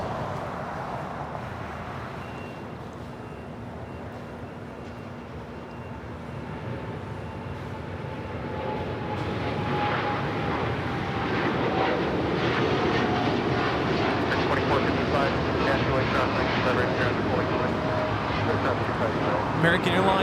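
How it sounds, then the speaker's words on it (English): An American Airlines Boeing 787-8 Dreamliner taking off from LAX for Tokyo Haneda: a distant engine rumble that grows into a louder, rising roar midway, with commentary voices over it. "American Airlines Flight 27 taking off to Tokyo Haneda on the 787-8 Dreamliner"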